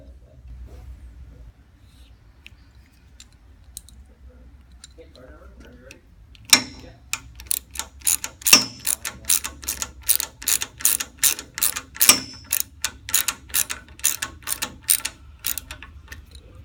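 An elliptical locking cap is tightened in a machine, giving a rapid series of close ratcheting clicks after a quiet start.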